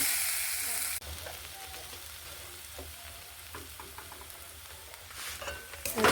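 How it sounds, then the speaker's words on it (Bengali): Semolina fries in a little oil for a carrot and potato semolina halwa. A soft, steady sizzle runs with scattered scraping stir strokes and a louder rustle near the end, and there is no talking. "লাল করে ভেজে নিচ্ছে, তেল কম করে দিয়ে হয়ে গেলে সুজিটা দিয়ে ভাজি।"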